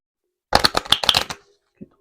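Tarot cards being shuffled, a quick riffle of several crisp flicks and slaps lasting under a second, followed by one faint tap, close and alone in a quiet room.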